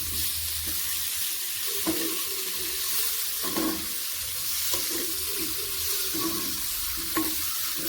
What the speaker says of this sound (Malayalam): ഇനി പൊളിച്ചെടുത്ത കാടാമട്ട ചേർക്കാം